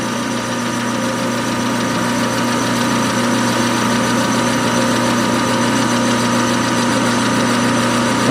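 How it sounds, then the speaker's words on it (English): Machine tool taking the first cut across the back side of a cast wheel for a Raritan riding car, a steady loud mechanical hum and drone with constant tonal whine throughout, no talking. "Here we are machining. This is the first cut across the back side of the last wheel."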